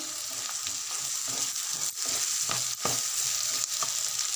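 Ginger-garlic paste sizzles and fries with turmeric in a pan, a steady loud hiss broken by occasional stirring scrapes, close up with no talking.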